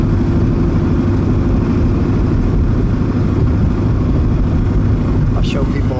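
Engine of a 1938 Packard Twelve formal sedan (V12, 3-speed) while driving, a steady low rumble of interior road and motor noise that fills the whole stretch, with people talking over it.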